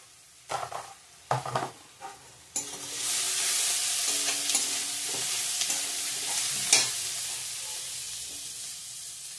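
Spices and chopped tomato sauté in a pan: a few clinks and scrapes of a utensil against the pan, then a sudden loud sizzle that settles into a steady close fry with occasional stirring, no voices.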